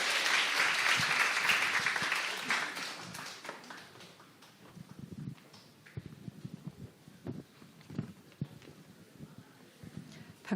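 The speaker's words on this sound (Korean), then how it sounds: "큰 박수로 환영해 주시기 바랍니다." An audience at a church ministry workers' retreat forum claps loudly for an arriving speaker for about two seconds, then the clapping fades to scattered claps and taps before the room goes quiet.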